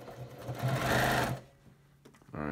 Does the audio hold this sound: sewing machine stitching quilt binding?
yes